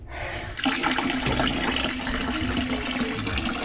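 Water poured out to rinse slippery soap and grime off a surface, a steady close splashing gush that runs unbroken for a few seconds.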